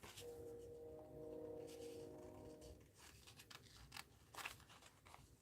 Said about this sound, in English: So let me fussy cut.